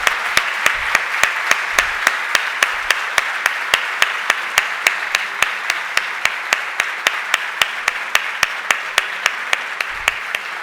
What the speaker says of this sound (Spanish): un fuerte aplauso para los señores candidatos a la presidencia